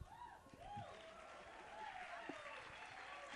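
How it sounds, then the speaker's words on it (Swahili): Audience applause rings out at a live band performance of Kigooco music, a dense wash of clapping rising and holding steady while a voice speaks over it. "Pigia huyo msichana makofi,"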